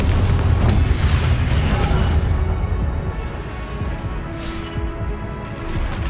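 Confringo blasting curse explosions in a spell-casting game, deep booming blasts rolling in one after another, loud and close, with a sustained rumbling tail.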